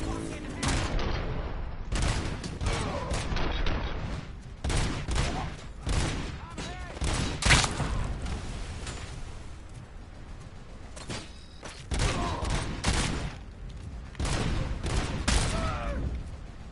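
Robot Ed 209 and automated turrets open fire in a video game, with dense bursts of rapid gunfire in repeated volleys across the scene, loud and close with short gaps between them.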